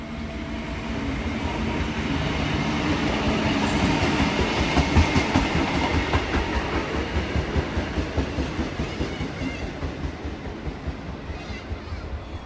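Diesel Endeavour train, known as the Bathurst Bullet, rolling past nearby with a building engine rumble and steady, evenly spaced clickety-clack of wheels over rail joints, fading slightly at the end.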